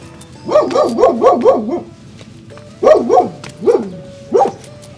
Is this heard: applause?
no